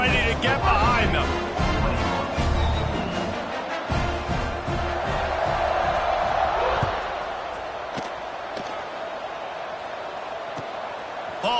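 Stadium crowd roars at a football kickoff as the team tries to hold a late lead, a loud sustained cheer with thumps and slams, easing slightly midway, under a commentator's voice.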